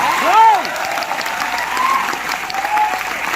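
An audience claps through a motivational talk, a steady wash of applause filling the room at moderate loudness, with a voice or tonal sweeps rising briefly over it near the start.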